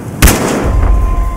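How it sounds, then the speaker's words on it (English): A single loud sniper rifle shot in the shooter game Battlefield Hardline, a sharp close crack followed by a short rumbling tail and lingering ambient hum. "I hope these guys are ready to take some freaking sniper shots."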